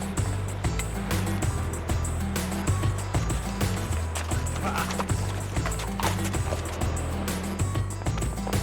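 Horses being readied for five days of intense riding clop along with steady, overlapping hoofbeats, close and continuous beneath a busy outdoor bed of low hum and scattered noise.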